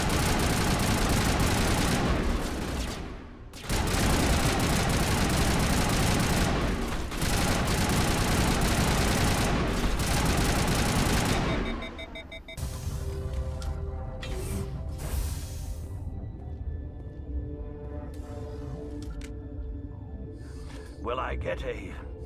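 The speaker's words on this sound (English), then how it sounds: "Open fire!" Heavy automatic gunfire fills a Mass Effect firefight in long, loud bursts with short gaps, then gives way to scattered shots, clanks and game effects, and a voice talks over part of it.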